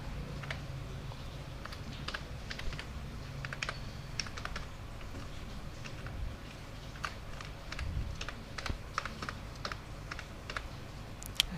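Fingers type on a computer keyboard to enter an email address, a quick, irregular run of close, crisp key clicks with short pauses, continuing throughout over faint room hum and no speech.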